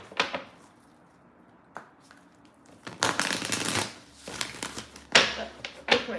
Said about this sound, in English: Oh, that was a whack shuffle.